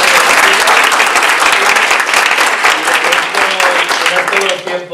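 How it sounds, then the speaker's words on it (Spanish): Loud, sustained applause from an audience at a closing event in Miraflores de la Sierra, dense clapping filling the room throughout, with voices and cheers mixed in near the end. "Nos demos un fuerte aplauso a todos."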